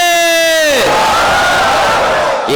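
A large crowd at an Islamic sermon gathering roars a loud collective shout, the massed voices swelling and holding for a couple of seconds before a second cry begins.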